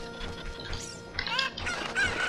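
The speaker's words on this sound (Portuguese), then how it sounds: "Ó, galinha." A chicken (Cucco) in the video game Zelda Ocarina of Time clucks and squawks repeatedly in short, nasal bursts over steady game background music.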